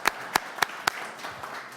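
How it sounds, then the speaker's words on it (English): At a city economic development committee meeting, members give the ambassador a short burst of applause: four sharp, evenly spaced claps stand out close by, followed by fainter scattered clapping. "a big round of applause for the ambassador."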